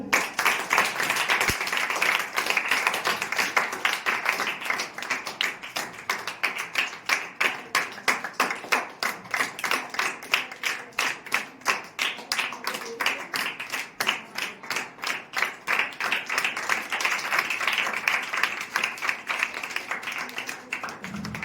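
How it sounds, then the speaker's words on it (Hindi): Sustained audience applause at a school farewell ceremony while a guest is welcomed with garlands, dense rhythmic clapping filling the room steadily and fairly loud throughout, with faint voices beneath. "तालियां बजाते रहिए।"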